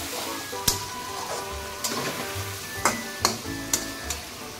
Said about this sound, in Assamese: এইখিনি অকণমান ভালকৈ লৰাই দিম